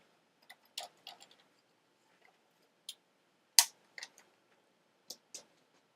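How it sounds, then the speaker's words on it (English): Scissors cut a paper envelope down, giving a scattering of faint, close snips and small clicks with quiet gaps between them and one sharper snap near the middle, with no talk. "And I'm going to go ahead and cut mine down by, let me say, ½ inch here."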